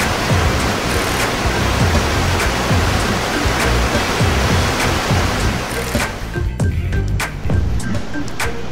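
Loud, continuous rush of a waterfall and river rapids in Norway's Valdalen valley, a dense broadband roar that thins slightly near the end.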